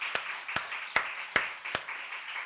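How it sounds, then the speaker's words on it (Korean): Church congregation clapping during a sermon, five or six sharp, evenly spaced claps in slow rhythm, fairly quiet over a faint room background. "박수도 쳐보세요"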